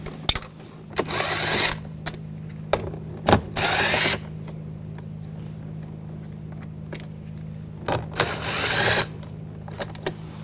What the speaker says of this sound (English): Now using a 7mm socket, take these screws out.